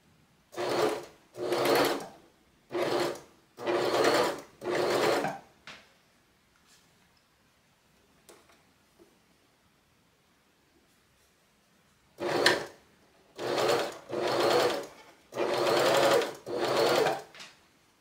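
A sewing machine stitching a shirt neckline runs in short bursts of a few seconds each, with a long quiet gap in the middle before a second series of runs. The stitching is clear and close, with no talking.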